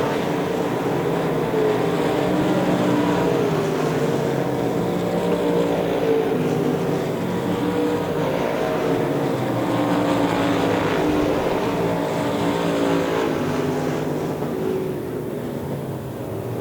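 Limited modified race cars at Devil's Bowl Speedway dirt track drone together in a dense, continuous engine roar that stays loud and steady, with a public address voice calling the finish over the noise.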